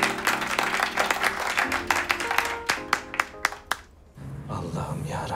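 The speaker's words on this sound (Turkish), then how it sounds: "Evet, alkışlar." Scattered applause from a small group, sharp irregular claps that thin out and fade after a few seconds, with a voice speaking over part of it.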